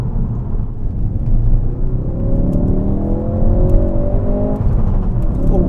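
Ford Fiesta ST mk7 accelerating hard on the road, engine note rising steadily and loud, with sharp crackles and pops from the exhaust near the end.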